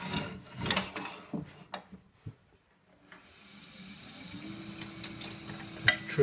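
A 3/8 spindle gouge cuts cross-grain forest sheoak on a lathe, giving scraping, rasping bursts up close. A quieter stretch follows, then a steady hum comes up under further light cutting and ticks.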